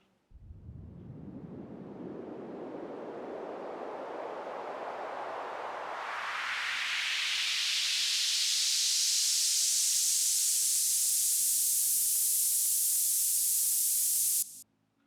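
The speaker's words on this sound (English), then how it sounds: "Here's the bandpass filter on white noise." White noise runs through an automated bandpass filter whose band sweeps steadily upward, a loud continuous hiss that starts as a deep rumble and rises to a bright, thin sizzle before stopping abruptly.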